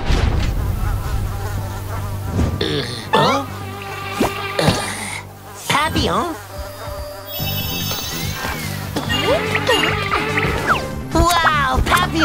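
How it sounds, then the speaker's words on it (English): A swarm of cartoon mosquitoes buzzes loudly and continuously over busy background music, with squeaky effects darting in and out throughout. "Papillon, we're surrounded by mosquitoes!"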